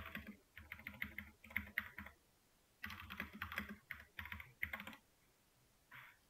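A name is typed on a computer keyboard in quick clattering bursts of keystrokes, separated by short pauses and ending in a final few taps, close and fairly quiet with no talking.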